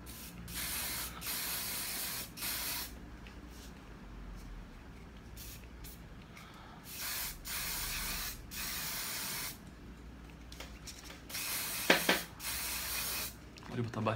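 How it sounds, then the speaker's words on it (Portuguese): Aerosol hair spray is sprayed onto a wig in a series of sharp hissing bursts of varying length, close to the mic, with a voice speaking between some of the bursts. "Bora finalizar com spray."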